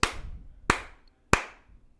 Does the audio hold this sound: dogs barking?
no